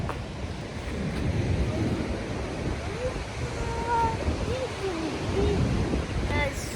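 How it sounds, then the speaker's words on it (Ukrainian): Ocean waves and wind on the coast at San Francisco, a steady rushing surf with gusting microphone wind noise, and voices talking faintly over it. "Зустріч перша з океаном."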